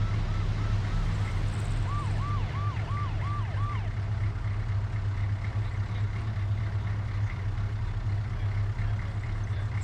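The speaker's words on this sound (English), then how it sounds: "Civilian vehicle, ambulance coming through." An ambulance siren wails in a rapid yelp pattern for a few seconds, moderately distant, over the steady low rumble of idling convoy vehicles.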